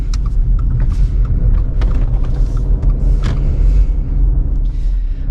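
A 2020 Subaru Outback Touring idles while warming up, a steady low rumble with faint clicks and rustles close by, no talk.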